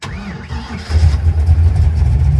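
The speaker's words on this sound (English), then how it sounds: "Let's see if it'll just restart. No throttle input." A car engine fitted with an Edelbrock 1405 carburetor restarts without throttle input: a brief cranking whine, then it catches and settles into a loud, steady, low rumbling idle close by.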